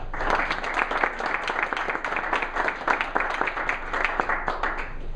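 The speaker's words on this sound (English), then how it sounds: "Would you please join me in giving them a round of applause?" Audience applause at a military promotion ceremony to major, a dense continuous patter of many hands clapping at moderate loudness, with no speech over it.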